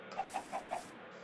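Chickens clucking in the video game Minecraft, four short evenly spaced clucks close by and fairly quiet, with no talk over them.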